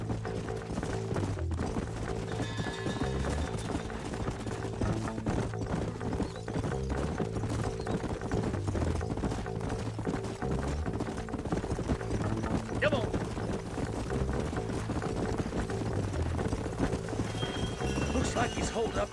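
Horses' hooves clip-clop steadily in Red Dead Redemption, with an occasional whinny, riding along under a continuous music bed and spoken dialogue throughout.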